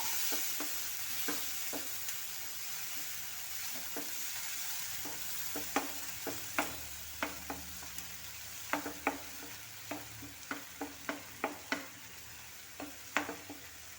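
Ground tomato and onion paste sautéing in a pan, a steady soft sizzle with spatula scrapes and taps that grow more frequent in the second half, close and with no voices.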